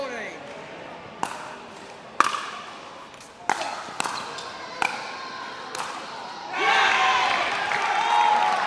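Viper supporters in the crowd at a pickleball match burst into loud cheering and applause after a rally of sharp paddle pops and ball bounces, with commentators talking throughout.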